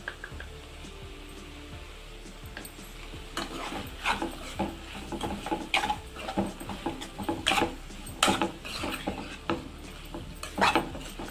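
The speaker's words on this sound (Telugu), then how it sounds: "కారం వేసుకొని ఇలా కలిపేసుకోవటమే." Spoon stirring chili powder into a tomato drumstick curry in a pot, with irregular soft scraping and tapping strokes that grow busier after the first few seconds, close by with no talk.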